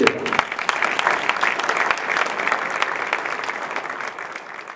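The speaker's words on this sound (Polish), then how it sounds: "I tu wielkie brawa." Audience applause at a forum ceremony in Krynica-Zdrój, a dense, even wash of many hands clapping that holds steady and slowly eases off.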